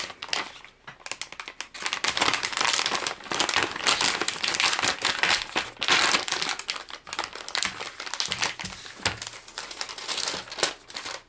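Fishing lures sit in hard plastic clamshell packaging with separate compartments, and handling it gives loud, close, continuous crinkling and crackling with no voices.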